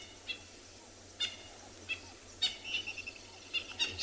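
Birds call at sunrise in the African bush: short, sharp cries that come singly and in small bursts, irregularly spaced at a moderate distance, over a low steady rumble.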